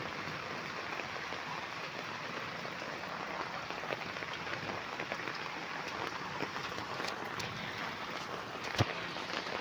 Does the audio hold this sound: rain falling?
yes